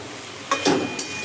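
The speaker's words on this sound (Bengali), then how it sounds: "ভালো করে এবার নেড়ে নিচ্ছি" Water spinach stirred in a wok over a gas flame turned up high: a soft, steady frying hiss broken by two quick scraping bursts close by.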